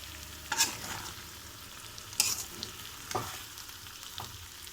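Chamagadda (taro) pieces frying in oil, a quiet low sizzle with a few sharp stirring scrapes spaced a second or so apart, close but soft.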